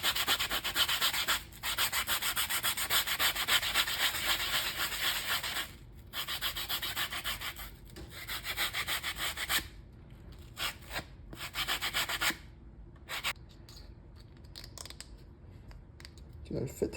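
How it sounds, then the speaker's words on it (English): Sanding the legs of a Clone Commander Fox action figure, a steady close rasping rub in long strokes that gives way to shorter, intermittent scrubbing passes with brief pauses. "spend a lot of time sanding the legs so that they go in nicely"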